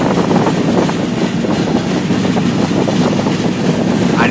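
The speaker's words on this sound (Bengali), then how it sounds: "এরকম মালভূমির মাঝখান দিয়ে ট্রেন চলছে" A passenger train between Bangalore and Hyderabad rolls across the Deccan plateau, heard from on board as a loud, continuous rumble with rhythmic wheel clatter and wind rush, no talking.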